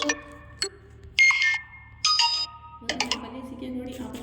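Notification ringtone options on an iQOO Neo 7 SE phone play in turn: several short melodic chimes and tones, each a second or so long, sounding close and clear with brief pauses between them.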